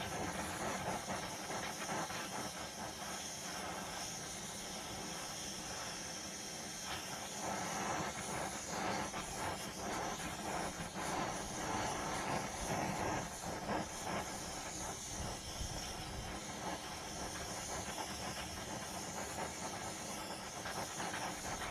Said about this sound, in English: I resorted to heating this bolt. There's no way it's coming off.